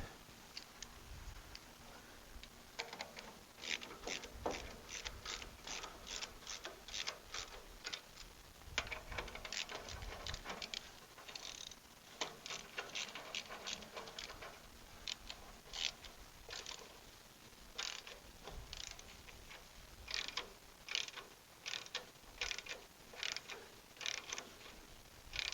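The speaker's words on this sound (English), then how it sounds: "Alright, time to tighten down these nuts." A wrench tightens nuts on a 1947 Ford 2N tractor in a run of quiet ratcheting clicks, coming in close bursts with short pauses between, faint and without talk.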